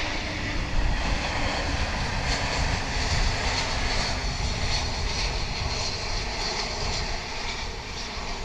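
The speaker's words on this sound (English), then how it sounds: "American Flight 1780 is coming in from Las Vegas, an A321" An American Airlines A321 arriving at DFW from Las Vegas, its engines a loud, steady roar with a dense low rumble that swells early and then eases slightly toward the end, heard alone.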